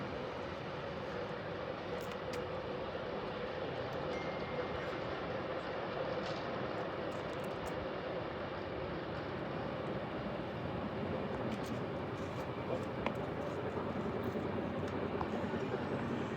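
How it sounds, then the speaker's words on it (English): A regular passenger train in the Blue Mountains rumbles past in a steady, continuous roar at a moderate distance, with faint clicks on top. "There's a normal train coming right now, I don't know if you can hear it."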